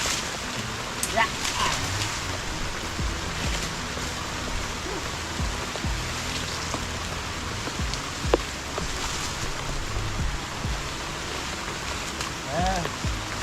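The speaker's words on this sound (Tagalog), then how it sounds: "Umapatak na naman ang ulan sa bubong ng bahay." Steady patter of rain on a house roof, broadband and continuous, with a few louder drips and a faint voice briefly in the background.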